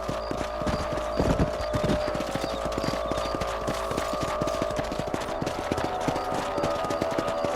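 Steady clip-clop of horse hooves in Red Dead Redemption, a rhythmic trotting pattern repeating evenly over a constant ambient background.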